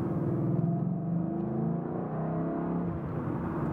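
A 2013 Ford Mustang GT Coyote V8 fitted with a Corsa exhaust gives a low, steady burbling rumble at moderate volume, with no voices over it.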